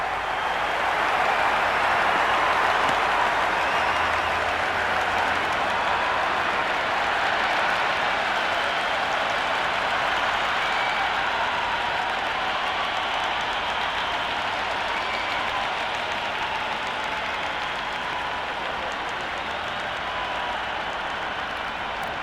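A packed cricket stadium crowd at a women's match between India and England, roaring and applauding in a dense, continuous wash of cheering and clapping that stays loud throughout and eases only slightly toward the end.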